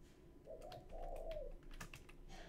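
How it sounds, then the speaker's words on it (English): A bird outside coos softly and faintly in a short, low warble, heard indoors under close, quiet computer keyboard typing. "Man, that bird is really going on."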